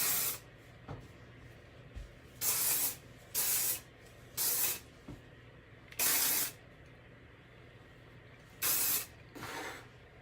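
Living Proof texture aerosol hairspray is sprayed in short bursts during hair styling, about seven sharp, close hissing blasts of roughly half a second each, separated by quiet gaps and no talking.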